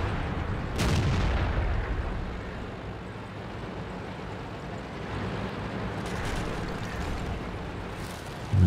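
Artillery shells in the tank combat video game World of Tanks, landing as a few dull booms over a steady rumbling battle background, with no speech.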